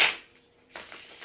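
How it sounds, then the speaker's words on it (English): Tarot cards shuffled by hand in a short, soft papery burst, a pause, then a second longer stretch of quiet rustling and sliding. "let's pull out tarot and see what is going on. Let me do a little shuffle."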